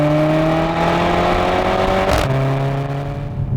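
A 2015 Mercedes-Benz GLA 45 AMG engine under power roars loud and aggressive, with a steady rising drone that briefly dips at a gear change before pulling again.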